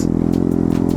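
A motorcycle engine running close by, a loud, steady low throbbing hum with rapid pulsing firing beats.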